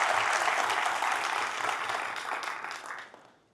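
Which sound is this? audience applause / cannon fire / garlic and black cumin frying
audience applause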